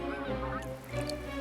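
Canada geese honk repeatedly in a loud, continuous chorus of overlapping calls, close and steady with no other sounds.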